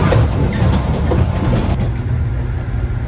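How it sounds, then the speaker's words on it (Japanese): A JNR 103 series rapid train on the Chikuhi Line runs at speed through Daiyū station with steady, loud rumbling wheel noise and a low engine drone that persists throughout, with no talk. "快速列車の名に恥じない走りをしております。"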